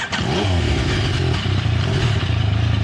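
A Yamaha Tracer 900 three-cylinder motorcycle engine revs up close by, its exhaust note rising with a steady, throaty drone and a rattly edge.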